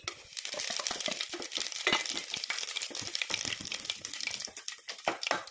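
Cinnamon and bay leaf sizzling and crackling in hot oil in a pan, a dense, close frying hiss with scattered sharp pops and stirring scrapes.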